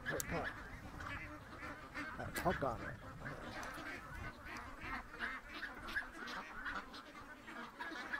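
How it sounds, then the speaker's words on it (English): Ducks quack and honk steadily while being fed, a busy flock chattering close by over running water, with someone talking over the birds throughout. "Good little ducks, eh?"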